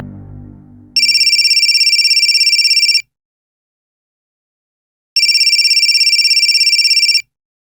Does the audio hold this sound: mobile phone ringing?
yes